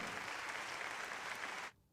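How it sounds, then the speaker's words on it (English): Canned applause from a sound-effect button on a matchmaking show, a steady burst of clapping and cheering that cuts off abruptly after about a second and a half. "Can we get a round of applause?"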